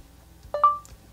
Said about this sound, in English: Speak after the beep.